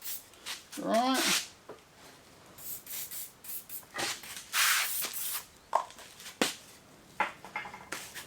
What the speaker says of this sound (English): we'll just do a little bit of spray on here.